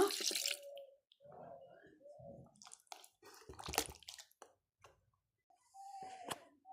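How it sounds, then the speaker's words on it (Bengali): A small amount of water is poured into a dish while cooking, a few short splashy pours and trickles with gaps between them, close and fairly quiet. "সামান্য পরিমাণ পানি দিয়ে দেব।"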